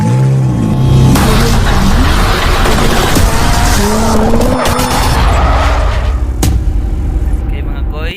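A Fuso Super Great truck with a 6M70 diesel engine, suffering low power and hard starting, cranks and revs up nearby with a loud, shifting, rising engine tone, and voices can be heard over it.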